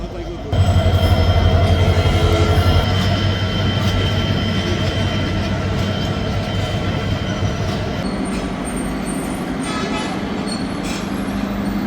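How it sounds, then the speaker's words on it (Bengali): A train arrives and rumbles through a modern railway station at the eastern end of the Jamuna rail bridge, a loud, steady roar of wheels and carriages filling the whole stretch, with a low engine drone early on. "যে দেখেন বড় একটি আলো দিয়ে ট্রেনটা চলে আসতেছে"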